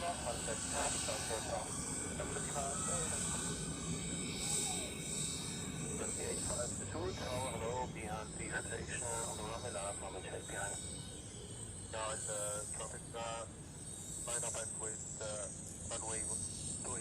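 A Swiss airliner on Zurich airport's runway 16 during a freezing rush hour: a steady, loud jet engine roar with hiss throughout, under intermittent radio-style speech.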